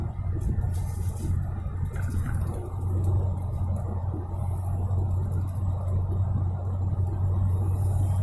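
Car driving along a rural road past cornfields, a steady low rumbling engine and road drone heard from inside the cabin, continuous and fairly quiet with a few brief knocks.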